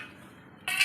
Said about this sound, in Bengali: প্রেসার কুকারের ঢাকাটা খুলে আমি এটা এবার তুলে নেব